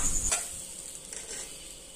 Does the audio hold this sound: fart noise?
no